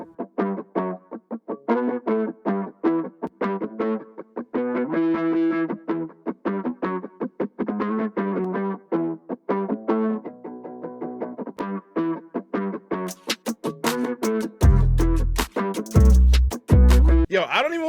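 A soloed guitar run through the Thickify plugin plays choppy, distorted chorus-thickened riffs in bursts with brief gaps, shifting tone between passages, with a few heavy low thumps near the end and no talking.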